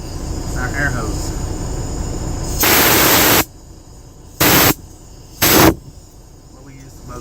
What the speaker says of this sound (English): it's our air hose.